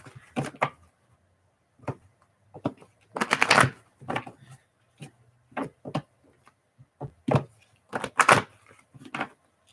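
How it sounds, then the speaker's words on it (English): A deck of reading cards being shuffled by hand, close and quiet, in a series of short riffling bursts and soft taps with brief silences between. "Let me just shuffle these cards a little bit and then I'll start."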